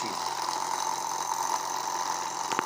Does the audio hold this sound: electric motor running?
yes